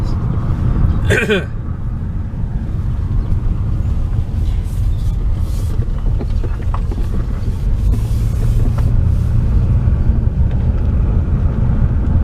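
A car with a worn motor mount idles with a steady low rumble that runs the whole time beneath people talking.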